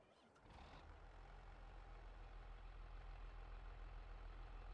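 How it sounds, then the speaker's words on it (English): A tractor engine in the Farming Simulator 22 video game, on the Elm Creek map, cranks and catches, then settles into a steady, loud, low idle rumble that continues without talk. "Start the engine."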